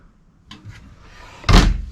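A deep drawer slides shut with a loud, solid thunk inside a 2018 Jayco White Hawk 26RK travel trailer, preceded by faint rustling and a soft sliding movement.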